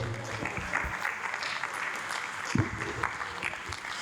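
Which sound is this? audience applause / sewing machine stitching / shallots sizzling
audience applause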